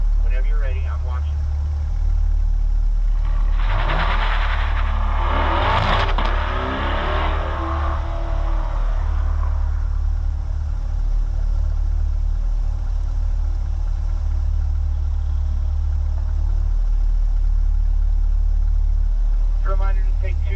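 A 2020 Chevrolet Corvette C8 pulls away in second gear on a racing-school track in Las Vegas, its engine swelling into a loud rising rev that then settles into a steady drone, with an instructor talking over it throughout.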